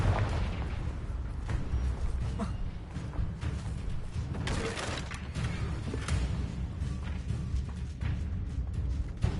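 Booming blasts from the Confringo spell in a wizard video game, a rumbling explosive roar sustained across the scene with crackling bursts over a low, heavy rumble.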